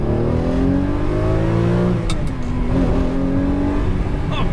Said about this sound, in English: Let's give some fresh air to this Murcielago by driving it.